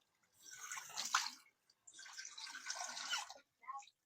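Running water splashes in two bursts at a kitchen sink while washing during cooking, faint and close, with a short pause between them and a brief splash at the end.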